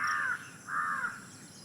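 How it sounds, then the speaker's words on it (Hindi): A crow caws twice from a tree in a village, two drawn-out, harsh calls separated by a short pause, fairly clear and alone against a quiet rural background. "अब तो आवाज़ आ रही है कौए की।"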